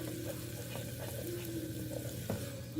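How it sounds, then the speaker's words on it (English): Soft, steady sizzle of turmeric frying in a pan with occasional scrapes and clinks from stirring, faint and continuous over a low background hum. "Cook the turmeric out."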